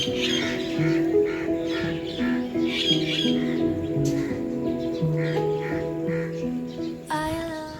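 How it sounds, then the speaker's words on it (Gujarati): Birds squawk and call in the morning outside a home, loud and continuous, with sustained tonal cries overlapping throughout. "પક્ષીઓનું ચીલચીહાટ બહુ બધું થાય છે"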